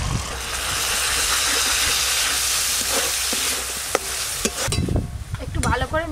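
A spoon stirs tomato paste with chilli and turmeric powder in a hot frying pan, a steady loud sizzle and hiss with scraping strokes that grow choppier toward the end.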